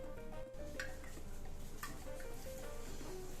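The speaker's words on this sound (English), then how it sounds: "So we're gonna fry these chiles for a few minutes" Dried chiles for birria tacos fry in a pan with a quiet, steady sizzle, and the occasional clink of a utensil against the pan sounds faintly over it.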